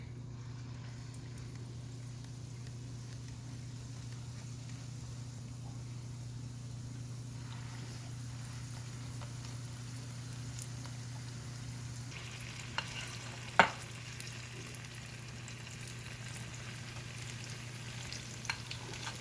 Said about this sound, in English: now that my oil is hot, I'm gonna go ahead and put my fritters in